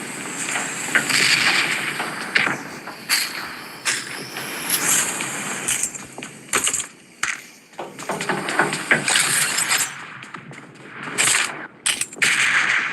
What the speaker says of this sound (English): Oh, mortars can strike the area.